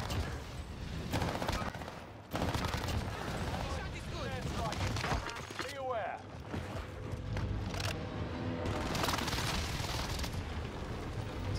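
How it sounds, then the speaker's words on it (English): Warzone gameplay in Call of Duty: a barrage of airstrike explosions and gunfire rumbles in repeated bursts, heavy booms and crackling volleys, loud throughout with a brief lull in the middle, voices talking over the fighting. "Somebody did random airstrikes"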